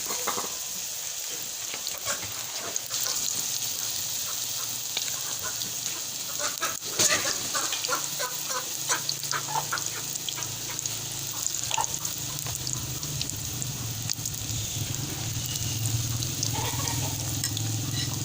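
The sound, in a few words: cabbage pakoras frying in oil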